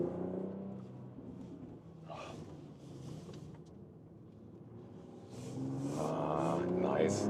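BMW X3 M50 accelerating hard on a slightly wet road with rear wheels spinning; a steady low engine rumble swells into a louder, fuller roar toward the end.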